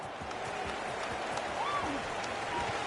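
A stadium crowd in a College Football video game roars steadily after a punt return, a dense, sustained cheer that stays level throughout while a commentator's voice talks over it.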